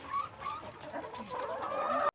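Laying hens on an egg poultry farm cluck in a steady, busy chorus nearby, with overlapping calls and a farmyard hum throughout; no one speaks.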